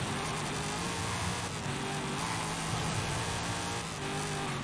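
A 2009 Chevrolet Corvette ZR1 in the racing game Forza Horizon 5, its engine droning steadily at speed with a sustained roar that varies slightly in pitch, loud and continuous with no talk.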